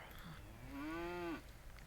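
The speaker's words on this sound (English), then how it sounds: "We have 1 cattle." A single cow moos in a video game, one close, drawn-out, rising then falling low call of about half a second, over a faint background.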